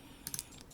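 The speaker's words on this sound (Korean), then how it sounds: "얘는 컨트롤 키 눌러서 한번 톡 빼주고" A single Ctrl key pressed on a computer keyboard while working in Rhino3d software, giving a few quiet, close, quick clicks in a brief burst.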